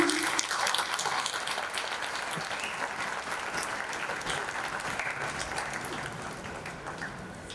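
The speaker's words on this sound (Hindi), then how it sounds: "तालियां थोड़ी कम नहीं लग रही?" Applause rises from the audience at the Shri Shankar Shambhu Memorial Awards, a steady wash of many hands clapping, moderately distant and even throughout with no break.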